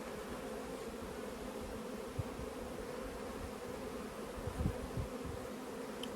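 Honey bees swarm around an opened hive during splits and nuc making, a soft continuous buzzing drone with a few brief louder passes close by, no talking.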